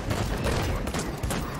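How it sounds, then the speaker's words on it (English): Rapid gunfire in the team shooter game Paladins, a loud dense burst of overlapping shots lasting just over a second. "I'm just shooting."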